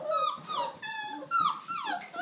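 A puppy named Ralph, one of a litter, whimpers close by in a string of high, wavering whines and yips with short breaks between them.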